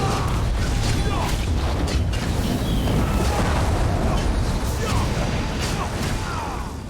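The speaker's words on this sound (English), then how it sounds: "Big explosion." A big explosion in Elder Scrolls Online, a dense, steady roar of rumbling booms and crashing debris that stays loud and broadband for about seven seconds, with scattered whooshing streaks over the top.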